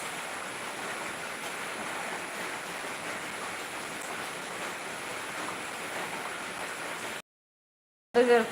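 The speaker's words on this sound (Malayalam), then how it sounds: "മേലെ ഷീറ്റിൻ്റെ മേലെ വെള്ളം വന്ന് വീഴുന്ന സൗണ്ട് കേൾക്കുന്നുണ്ടാവും" Heavy rain drums steadily on a metal sheet roof, a dense even hiss that cuts off abruptly near the end before a short burst of sound.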